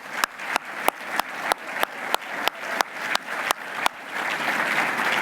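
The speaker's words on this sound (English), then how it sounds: "Give them all a round of applause." Sharp, evenly spaced claps ring out in a steady rhythm at a sports hall of fame awards banquet, then dissolve into a fuller wash of sustained audience applause toward the end.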